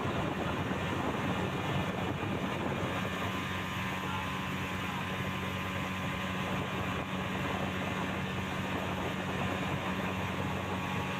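Speedboat running on open water near Barikka Tila, a constant loud engine drone with rushing water noise that holds steady and unbroken, no voices.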